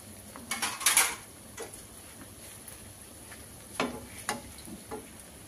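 Mackerel fries in a pan for a chu chee curry, giving a faint sizzle under scattered clinks and scrapes as a utensil turns the fish, with a sharper clatter early on.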